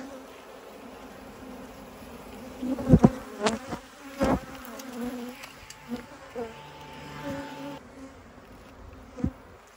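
Bees buzz steadily around the hive, with several louder buzzes passing close by over a softer background hum.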